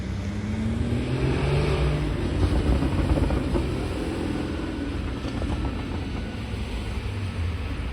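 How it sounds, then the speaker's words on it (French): A Porsche Cayman GT4 passes at a car-spotting meet in Deauville, its engine a loud, steady drone that swells and holds before easing slightly, heard from nearby with light background noise. "Oh, ça sonne bien le Cayman GT4."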